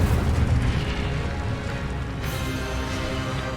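In Hogwarts Legacy, casting the Incendio fire spell releases a loud, continuous burst of roaring, crackling noise. It stays dense and steady throughout, with a slight shift partway through.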